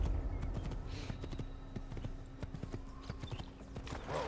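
Horse hooves clip-clopping in the video game Assassin's Creed, a steady trotting rhythm of hard hoof strikes, fairly quiet, with faint ambient game sound and no talk over it.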